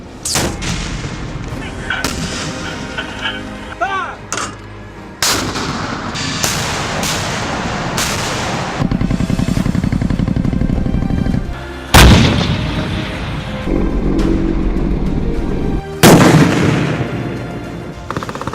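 National Guard artillery fires several loud, booming rounds with sharp blasts and rolling echoes, spread across the clip among other rumbling battlefield noise.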